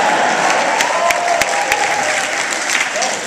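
Dense audience applause filling a theater crowd at a Q&A event, steady loud clapping throughout with a few sharper claps and cheers mixed in.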